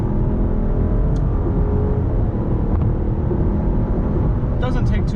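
A 2021 Chevrolet Trailblazer with a 9-speed automatic and all-wheel drive accelerates, its engine a loud steady drone under heavy cabin rumble throughout, with a brief tick early and a clatter near the end.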